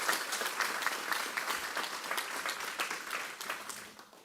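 An audience at a commencement ceremony applauds: sustained, fairly close clapping with individual claps standing out, continuing throughout and tapering slightly at the end.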